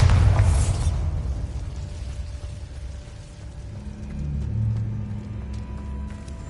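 A magical blast spell goes off in the Hogwarts Legacy video game, a burst of explosive noise at the start that settles into a low rumbling hum and a softer swell of sound afterward.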